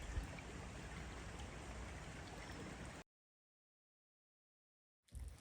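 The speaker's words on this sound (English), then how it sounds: "we've got a little brook that runs down the bottom of the Legends Fields, and it has burst its banks. There is water everywhere." A swollen brook that has burst its banks after heavy rain, rushing in a steady broadband flow for about three seconds before cutting to silence, then briefly returning at the end.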